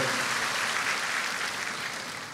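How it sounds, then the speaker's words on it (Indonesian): A church congregation applauds warmly during a worship service, dense sustained clapping that holds steady throughout and fades slightly toward the end, with no voices over it. "Beri tepuk tangan yang meriah buat Tuhan."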